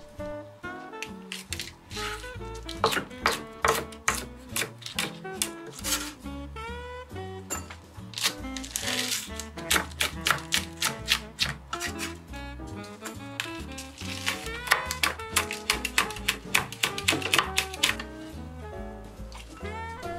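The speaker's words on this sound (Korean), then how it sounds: "자, 다시 칼질 시간이 돌아왔죠?" A kitchen knife chops ingredients for Hong Kong fried pork entrails, with rapid, rhythmic strikes on a cutting board, close and continuous with brief uneven pauses.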